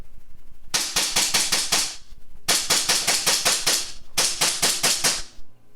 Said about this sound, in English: All right, here goes the little rapid fire.